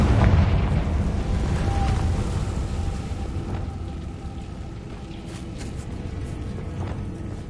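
A Confringo blasting spell erupts in a Hogwarts video game, a loud, deep explosion booming at the start and then settling into a long rumbling, crackling decay.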